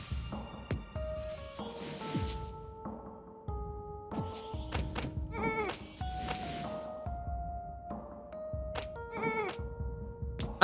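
Sheep in the video game Phobies bleat in short repeated bursts against game music with chimes and tones, fairly close and loud, with no talking.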